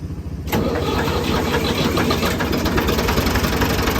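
A Ford 2000 gas tractor engine cranks for a half-second, catches and fires into a loud, steady chugging idle heard close up.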